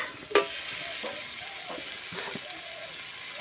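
Meat curry with onions, ginger and garlic frying in a pan, a steady close sizzle broken by a few scraping stirs and clinks of the spatula.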